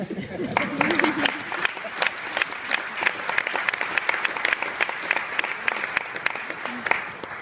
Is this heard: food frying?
no